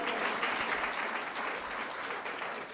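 A live audience at an in-person event applauds steadily, a dense wash of clapping that holds at an even level throughout.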